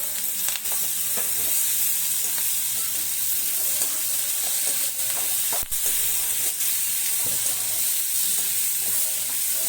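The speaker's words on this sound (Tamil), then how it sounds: "தக்காளி அதிலே போட்டு வதக்கிக்கிறேன்" Tomatoes sauté in a pan under a loud, continuous sizzle and hiss, with scattered scrapes and taps from stirring. The sound is close, and no one speaks.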